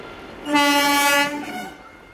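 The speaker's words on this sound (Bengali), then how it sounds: "ট্রেনটা দাঁড়িয়ে আছে" A train standing at a platform near Bally Bridge over the Ganges sounds its horn once, a loud, harmonic blast lasting under a second and trailing off over faint background rumble.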